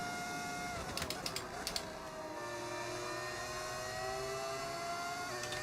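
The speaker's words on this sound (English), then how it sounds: "Can hear my engine braking." Racing car slowing under engine braking in the F1 25 game, a steady whining engine drone with falling pitch, broken by a few sharp clicks early on, continuous and fairly loud.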